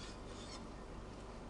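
A spoon scrapes the flesh out of a lemon peel, a steady, close rasping rub that runs unbroken throughout.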